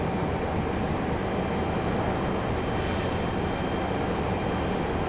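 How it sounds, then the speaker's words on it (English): United Boeing 737 taxiing out for departure at Raleigh-Durham airport, a constant engine whine and broadband roar holding steady and fairly close, no voices. "we have a United headed out for departure"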